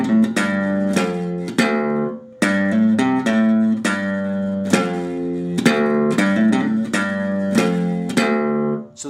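Slide guitar playing a blues riff as a Delta blues lesson demonstration, repeated phrases of plucked, sliding notes with a held longer note, close and alone with no talk.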